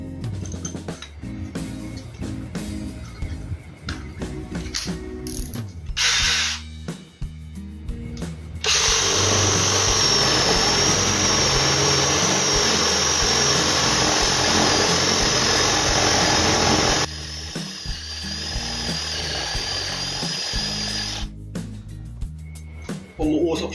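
A Dewalt 12V brushless drill driver bores with a dull, smoking bit. Short starts give way to a long, loud, steady motor whine that stops, then resumes briefly, with a person talking between runs.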